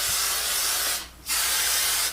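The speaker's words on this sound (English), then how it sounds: "Then you want to spray, and I'm using the Big Sexy Hair Spray and Play Hairspray" Big Sexy Hair Spray and Play hairspray sprays in two close, loud bursts of airy hiss. A short pause separates them, and the first burst is longer.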